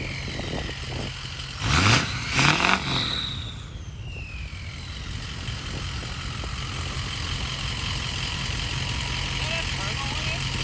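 A Ford 6.0 Powerstroke diesel truck engine runs with a steady low rumble, broken early by two loud rough bursts and a brief falling whine like a turbo spooling down.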